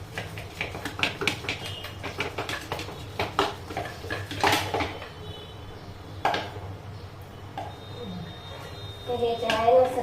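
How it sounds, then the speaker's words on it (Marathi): Ghevar batter is beaten by hand in a bowl, chilled with ice, producing quick irregular clinks and taps against the bowl's side in uneven bursts, close and moderately loud. "पुन्हा आपण 5 मिनिटं असंच फेटून घ्यायचं हाताने।"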